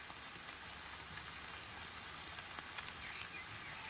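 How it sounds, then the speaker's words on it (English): Rain falling in a Russian forest, a steady, soft patter of drops on leaves with no other sounds. "He retreats under leaves to wait for the rain to stop."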